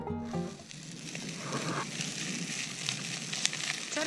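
Steady frying sizzle from a pot of kaszotto, a buckwheat-groats risotto, cooking in a mountain shelter on Śnieżka in winter, a soft continuous hiss after a brief faint knock at the start.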